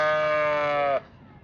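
A person imitates a goat with one long, loud, wavering bleat that holds steady for about a second and then breaks off, leaving quiet background noise.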